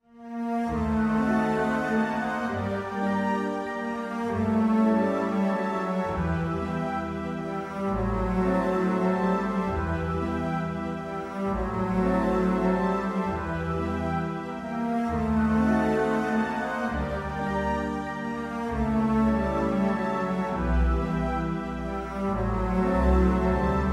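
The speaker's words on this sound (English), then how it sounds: "all together with the pitched percussion and the harp on top" An orchestra plays a gentle layered passage, with bell-like pitched percussion and harp notes sparkling on top, steady and moderately loud, no talking.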